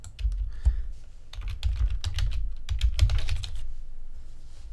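A computer keyboard clatters in quick, loud bursts as a folder name is typed for an Akeeba Backup setup in Joomla 3, with short pauses between runs of keys and no speech.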